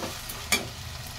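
Tomato and pea curry cooking in a pan, a soft background simmer with a single brief scrape of a spoon near the middle, quiet and without voices.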